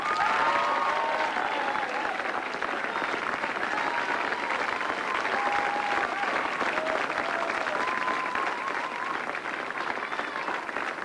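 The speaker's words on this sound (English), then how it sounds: "a well-deserved round of applause from the big crowd here at Browns Plains" A big crowd at Browns Plains gives sustained applause during the prize presentation at the 1990 Goldpin Classic bowling final; the steady, dense clapping fills the whole stretch without a break.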